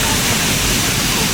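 Steady, broadband rushing of a river flowing beside a riverside campsite in the middle of a city, continuous and fairly loud with no breaks.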